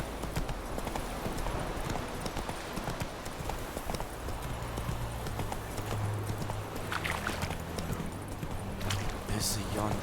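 Hooves of Roach the horse clip-clop at a gallop in Witcher 3, a quick, steady drumming kept up throughout, set within busy game ambience with a voice speaking over it.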